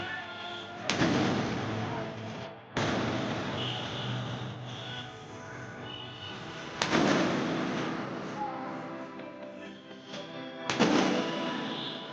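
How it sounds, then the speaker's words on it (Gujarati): Celebratory fireworks set off in Ambaji for the Chandrayaan-3 moon landing: four loud, sharp blasts at uneven intervals, each trailing off into a long crackling, rumbling decay. "અંબાજી ભાજપા મંડળે કરી આતશબાજી"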